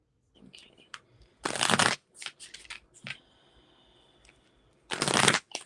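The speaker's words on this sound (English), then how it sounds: "I'm also going to shuffle from my love deck as well" A deck of oracle cards is shuffled in two loud riffling bursts, separated by softer handling clicks and a faint voice in the quiet stretch between them.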